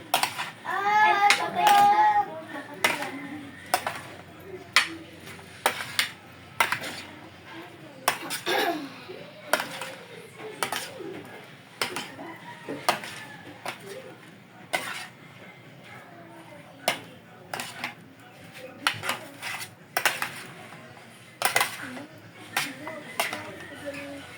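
Food being mixed in a bowl with utensils, heard as irregular clinks, taps and scrapes of metal against the dish, with people talking at times.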